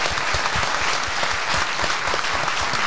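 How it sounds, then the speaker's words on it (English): An audience at a live motoring show recording applauds in a full, even wash of clapping from many people, steady and fairly loud throughout. "So give yourselves a round of applause."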